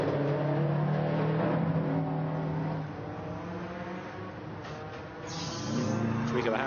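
A Subaru Legacy rally car runs the night super special stage at Goodwood SpeedWeek, its engine revving and droning at moderate distance, dipping mid-run then building again, with commentary over the top.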